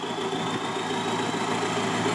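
Remapped VW Golf 1.9 TDI diesel engine running steadily in a garage, a continuous, fairly loud idle-like drone with a slight vibrating rattle and no break across the short stretch.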